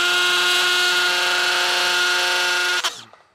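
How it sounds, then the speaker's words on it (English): A hammer drill in hammer mode bores a quarter-inch hole for a Tapcon concrete screw, a loud continuous whining buzz held for nearly three seconds before it cuts off and winds down. "Now I'm gonna just drive this down through. I got my hammer mode on."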